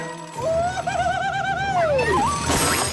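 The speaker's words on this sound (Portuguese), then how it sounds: "tenta trabalhar com alarmes mais tranquilos, sons de passarinho e tal" A bright, warbling electronic birdsong tone rises and falls in melodic chirps and trills, loud and close, like a gentle digital alarm.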